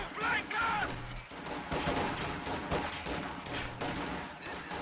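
Rifle gunfire from the Company of Heroes 2 real-time strategy game, a dense battle with crackling shots and bursts layered over rumbling explosions, continuous and loud throughout, with commentary talk over it.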